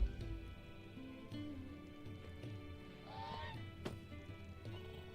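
Birds honk in Final Fantasy XVI, a few goose-like calls rising faintly over a quiet ambient game backdrop, soft and somewhat distant.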